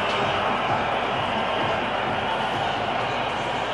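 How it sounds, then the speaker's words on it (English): A large cricket crowd at an India versus Australia CB Series match in 2008 cheers a batsman's shot, giving a steady, dense roar of many voices from across the ground. "The crowd loved it."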